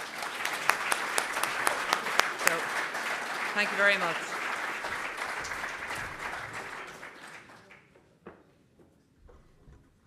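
Audience applause fills a room at a university MBA alumni evening reception, a dense, sustained clapping that holds steady for several seconds, then thins and fades to scattered claps, with a speaker's brief thanks heard near the start.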